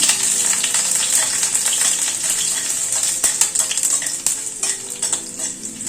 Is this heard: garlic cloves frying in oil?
yes